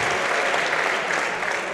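Spectators applaud steadily through a French doublette pétanque championship final in 2017, a dense, continuous wash of clapping from a crowd with no break.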